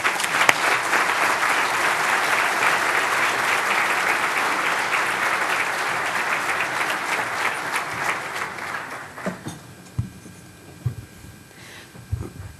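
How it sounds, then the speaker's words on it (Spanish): An audience at an IMEF business conference breaks into loud, sustained applause for a speaker, the clapping fading after about nine seconds into a few scattered claps and faint room noise. "Démosle un fuerte aplauso, por favor."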